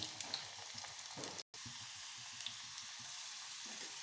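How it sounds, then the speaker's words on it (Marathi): Sweet potato chips fry in hot oil with a soft, steady bubbling hiss and faint crackles, broken by a brief gap of silence. "तेल चांगलं गरम झालं तर रताळ्याचे चिप्स तळून घेऊ आपण"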